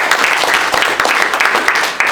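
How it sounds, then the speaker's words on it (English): An audience applauds at a Young Republican leaders event in Texas, with steady, dense clapping filling the room for a couple of seconds at a fairly loud, even level. "Give her a round of applause"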